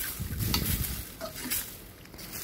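A spoon stirs chicken topping for mie ayam with tomato and sweet soy sauce in a pan, giving close scraping and swishing strokes over a faint sizzle, with no talking.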